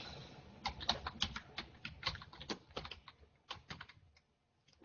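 Typing on a computer keyboard to enter a password while logging into a Zoom room setup on an Intel NUC: irregular bursts of close, crisp key clicks over several seconds, trailing off to quiet at the end.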